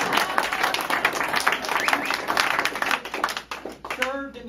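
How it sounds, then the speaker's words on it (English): A political rally audience at a campaign visit by Virginia's Governor in Mason City breaks into steady, dense clapping that carries on for several seconds, mixed with crowd murmur, before a voice begins to speak near the end. "You can clap, go right ahead."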